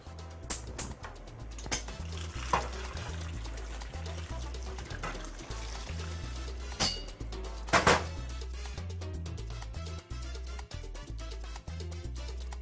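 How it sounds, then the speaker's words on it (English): Boiling water is poured from a kettle or pot onto potatoes in a pot on a stovetop, making a steady, close splashing and gurgling pour with a few clanks of cookware over roughly twelve seconds, no talking. "Let's put it over the stove top, and let's add our boiling water."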